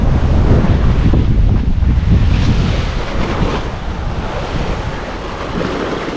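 Ocean surf breaking against a rocky shoreline below steep stairs, a loud continuous wash of waves with heavy wind buffeting the microphone throughout.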